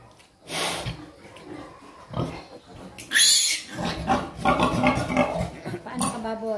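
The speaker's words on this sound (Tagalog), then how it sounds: "Baboy." A pig on a farm oinks and snorts in several short bursts, fairly close, with a few clinks of dishes or pots and brief human voices mixed in.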